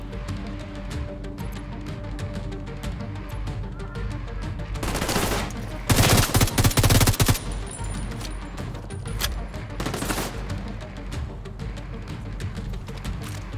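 Automatic gunfire in the video game The Division 2, bursts of rapid shots with a loud sustained fusillade in the middle and scattered shorter bursts around it, set against game background noise.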